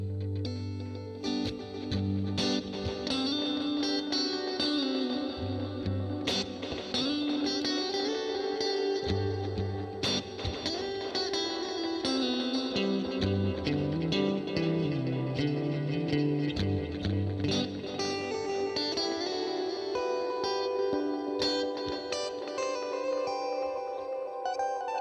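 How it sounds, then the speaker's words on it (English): An electric guitar on a 75th Anniversary Evertune Strat plays chords and notes through a big, crazy echo effect, repeats and reverb trailing into a dense wash, loud and alone without talk. "If I don't have my big crazy echo sound"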